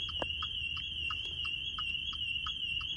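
A 2024 Maserati Quattroporte's alarm sounds, a repeating electronic tone pulsing steadily, a high pitched beeping pattern sounding continuously at moderate distance.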